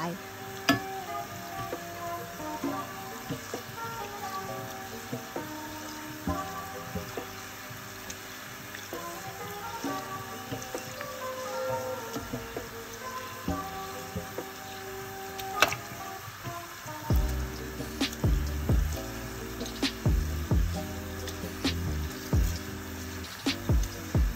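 Golden sesame balls deep-fry in hot oil with a steady, busy sizzle and bubbling, punctuated by occasional scraping and pressing clatter as they are stirred and pushed down.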